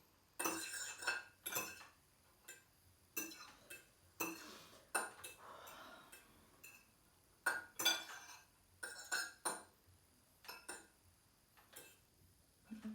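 A teaspoon stirring spicy noodles clinks and taps against the bowl in quiet, irregular bursts, with sharp metallic chinks spaced through a hushed room.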